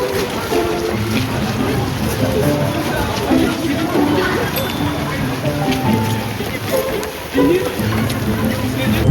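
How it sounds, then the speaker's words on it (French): Heavy rain falling outdoors in Paris, a steady wash of patter and splashing throughout, with people talking nearby and occasional louder knocks. "il a commencé à pleuvoir un peu trop fort"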